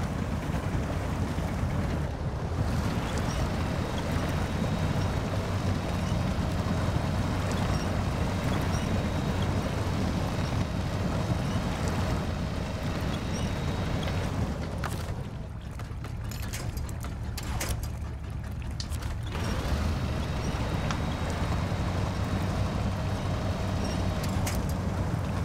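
A boat motor hums steadily on the water in a video game set at Black Badger Lake, Wisconsin, a continuous low engine drone with splashing wash and wind noise, steady throughout with a brief dip midway.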